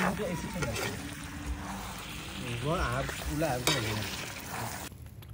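Chicken frying in a pan outdoors in a courtyard, a continuous soft sizzle and stirring under background voices.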